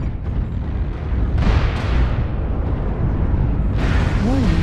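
Incoming missile explosions in the mech combat game MechWarrior Online, a dense run of loud rumbling booms and bursts with a short tonal warning chirp near the end.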